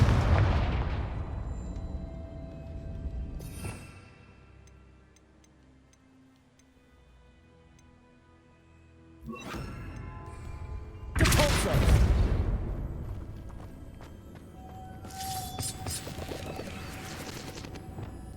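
Several booming bursts of the Confringo fire-blast spell in the video game Hogwarts Legacy erupt at intervals, each a loud broadband blast that fades into a quiet, ringing lull.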